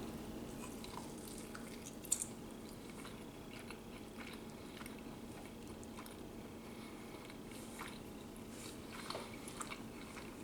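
Someone chews a shotgun-shell snack of pasta shell stuffed with sausage and coated in barbecue sauce, giving soft, wet, steady mouth sounds up close, with a sharper bite near the start and no talking.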